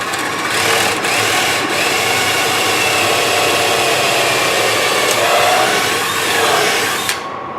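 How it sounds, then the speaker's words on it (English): A power drill whines steadily and loudly for several seconds while drilling through a rubber planter mold for glass fiber reinforced concrete, a continuous high-pitched buzz that cuts off abruptly at the end. "By flipping it over, I can drill right from this side and make sure I go right through the center"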